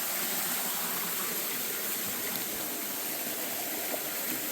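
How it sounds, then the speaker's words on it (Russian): Water flowing into a river, a steady broadband rush like a small stream or runoff pouring in, constant and close with no voices over it. "Течет, вода течет. Вот она туда в речку и уходит."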